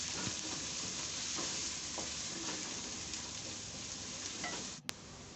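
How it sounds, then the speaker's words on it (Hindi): Two medium chopped onions sizzle steadily in half a cup of hot oil in a pan for a gawar phali sabzi, with occasional soft stirring clicks and a sharp tap near the end. No one speaks. "इनको फ्राई करेंगे और लाइट ब्राउन करेंगे।"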